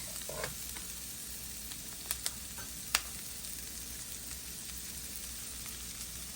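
Spinach (saag) for palak paneer sautéing in a pan over low-medium heat, a faint, even sizzle with a few soft clicks and taps of stirring.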